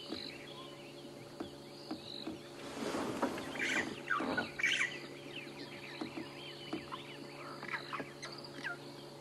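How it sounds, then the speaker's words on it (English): Birds of the dawn chorus call on an early-morning safari drive, soft scattered chirps and tweets at a distance, with a brief louder rustling burst amid a low steady hum. "The dawn chorus, the birds are slowly starting to call."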